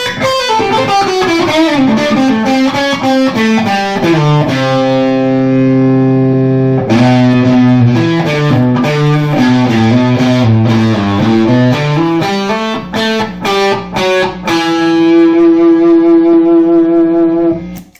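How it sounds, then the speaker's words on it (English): A 1961 Supro electric guitar played through a raspy, fuzzy distortion, strummed chords and riffs ringing loudly with brief pauses between phrases. "when you hit the distortion, it gets this kind of a ratty kind of"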